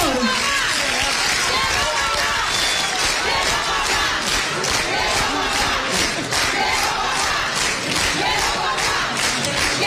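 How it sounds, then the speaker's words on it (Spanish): A large crowd at a political event in the Dominican Republic applauds and cheers loudly and continuously, a dense wash of clapping and shouting filling the whole stretch. "El aplauso, por favor."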